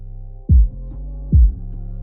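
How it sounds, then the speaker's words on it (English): Two deep, booming low-end thumps about a second apart with a sustained bass hum beneath, muffled and heavy with no highs: the soloed low frequencies of a UK drill beat. "This will solo out only this, so you can only hear the lower frequencies."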